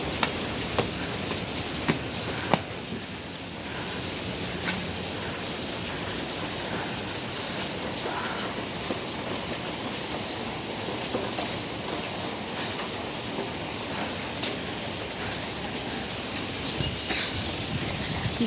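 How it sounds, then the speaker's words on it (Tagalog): Steady rain falling outdoors on Labour Day, a dense continuous hiss with occasional sharper drops, close and even throughout, no voices. "Wala ning kusog yun ang ulan."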